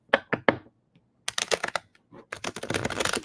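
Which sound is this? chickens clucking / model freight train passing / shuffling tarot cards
shuffling tarot cards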